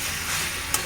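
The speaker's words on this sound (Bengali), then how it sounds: "মাংসটা কষাচ্ছি" Meat braising in a pan, a steady close frying sizzle filling the short moment with a brief scrape of stirring near the end.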